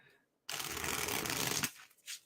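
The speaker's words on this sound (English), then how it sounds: "the sweet sound of a good shuffle" A single crisp riffle shuffle of tarot cards, a dense rapid flutter for about a second, followed by a couple of soft taps as the deck settles.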